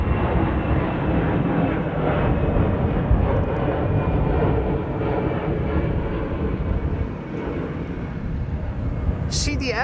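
A Boeing 747 departing Amsterdam Schiphol for Frankfurt on a sunny day, a loud, steady jet engine roar rumbling continuously for several seconds from a moderate distance.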